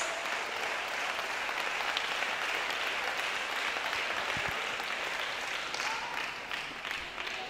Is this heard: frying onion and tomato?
no